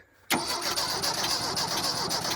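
An abandoned Mercury Capri Turbo engine cranks over as someone tries to start it, a sudden loud, rough, churning mechanical rush that cuts in after a short quiet moment and holds steadily close by.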